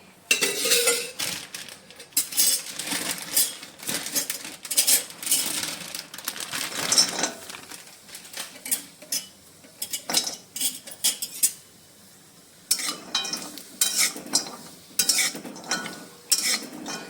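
Dry ginger roasting in a little oil in a pan, heard as a busy clatter of a metal spatula scraping and clinking against the pan in irregular bursts with short pauses.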